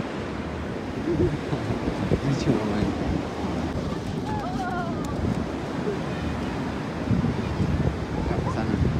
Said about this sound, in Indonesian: Kita explore pantai Canggu ya. Ini Eco Beach.